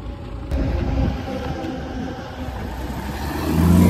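Classic cars idle and rev at a vintage Grand Prix carspotting event, a steady close engine rumble that swells toward the end as one accelerates.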